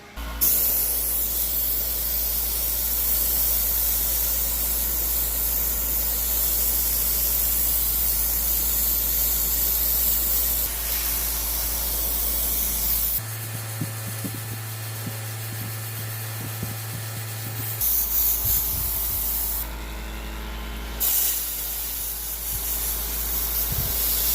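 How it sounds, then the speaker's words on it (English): A continuous hissing airbrush spray of white paint, close and steady, runs for long stretches and is broken by brief pauses and a low mechanical hum. "So I'm going to spray that white"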